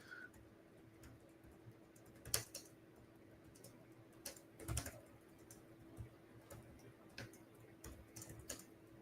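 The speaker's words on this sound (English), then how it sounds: "I was just typing in a comment" Light, irregular clicks of someone typing on a computer keyboard during a live arborist Q&A. The keystrokes come in quiet scattered bursts with a few sharper taps, heard close against a low steady background hum.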